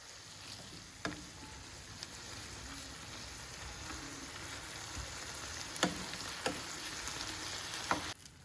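Vegetable curry seasoned with turmeric sizzles steadily in a pan while being stirred and mixed, a soft continuous frying hiss broken by a few sharp utensil clicks against the pan.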